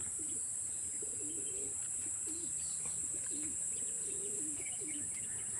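Homing pigeons return to their loft, with repeated soft low coos sounding at a moderate distance over a steady high-pitched hiss of insects or background noise.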